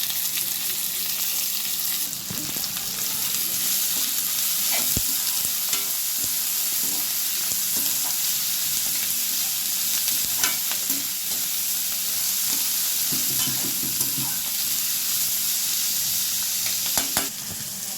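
Chopped onions sizzle and crackle steadily in hot oil with cumin in a kadai, loud and close throughout, with occasional stirring scrapes.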